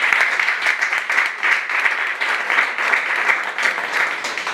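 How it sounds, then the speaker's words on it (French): An audience at a women's empowerment masterclass in Benin claps steadily in a dense, continuous patter that holds an even loudness from start to finish, with no voices rising above it. "on s'applaudit"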